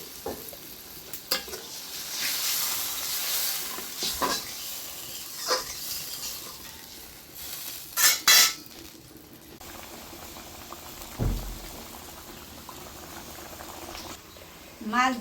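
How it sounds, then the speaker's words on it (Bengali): Hot water pours onto potatoes frying in a pan, bursting into a loud hiss, then settles into a steady bubbling boil with occasional stirring clinks and a few louder bursts. "এখন দিয়ে দেব গরম জল।"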